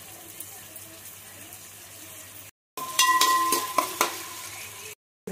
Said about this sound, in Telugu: ఆయిల్ పోసుకుని ఉల్లిపాయలు వేసుకోవాలండి